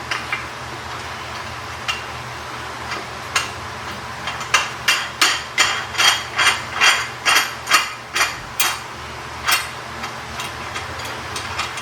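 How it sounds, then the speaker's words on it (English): A ratchet wrench tightens nuts on a solar panel rack, giving a loud, steady run of rapid clicks in the middle of the clip, with a few scattered clicks before and after. "you do need a wrench to put these first two nuts on"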